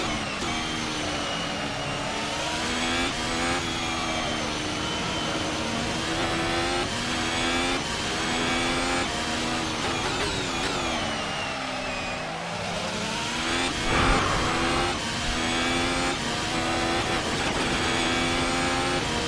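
A 2021-spec Formula 1 car's engine screams loud and continuous, rising in pitch through the gears with quick upshifts, a brief lift and dip around a corner, then climbing again on the throttle, with no voices.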